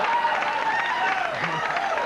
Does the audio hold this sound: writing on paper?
no